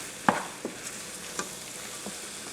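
A spoon scrapes and stirs garlic cooking in a pot of crawfish fricassee, with a soft sizzle underneath and a few distinct clinks and scrapes, close up.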